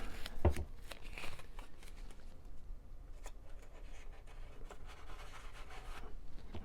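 Pen marking a balsa wood RC plane wing, soft faint scratching strokes over a quiet room background.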